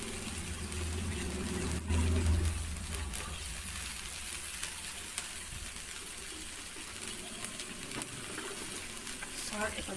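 Sliced okra fries in a small amount of oil in a pan, giving a soft, steady sizzle with faint stirring scrapes, quiet and continuous with a brief low thump early on.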